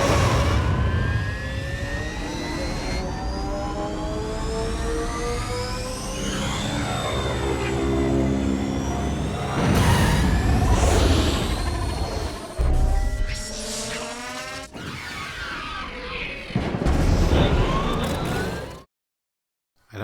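Star Wars pod racer engines warm up at the start of the race, a loud roaring, whining blend of rising and falling turbine and siren-like tones for about nineteen seconds before cutting to silence.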